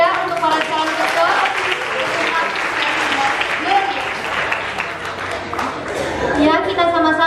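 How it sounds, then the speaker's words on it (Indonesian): An audience at a high school student council election debate applauds the candidates, loud continuous clapping with voices and cheers mixed in throughout. "kita berikan tepuk tangan yang meriah untuk para calon ketua"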